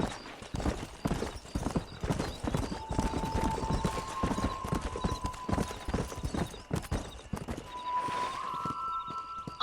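A horse gallops in Red Dead Redemption, with rapid, rhythmic hoofbeats pounding steadily throughout, loud and close, while thin tonal music sustains in the background.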